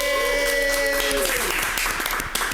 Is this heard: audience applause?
yes